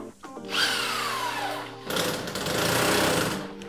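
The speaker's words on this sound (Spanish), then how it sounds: "Y lo atornillamos a la solera de arriba." A power screwdriver drives needle-point T2 drywall screws into the top metal track of a moisture-resistant plasterboard partition, whining up in pitch as the screw bites, then a second buzzing run, close and loud.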